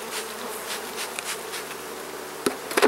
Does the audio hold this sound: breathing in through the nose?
no